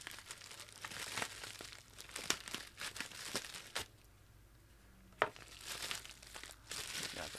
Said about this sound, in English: Let me get my packing list and shipping label out of here.